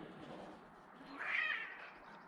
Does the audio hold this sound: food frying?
no